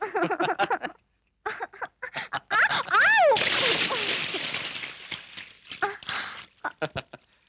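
Water is splashed over a sleeping person's head in an indoor domestic scene, a loud sloshing splash in the middle surrounded by a voice speaking and exclaiming before and after.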